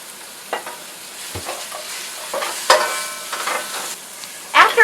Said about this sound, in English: Add the green pepper and saute those as well.